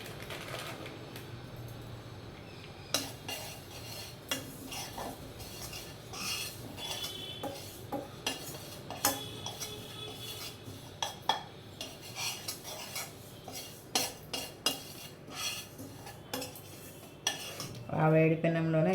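Sesame seeds roasting in a hot pan for ragi laddus, stirred with a metal utensil that scrapes and clinks steadily, with irregular sharper knocks against the pan throughout.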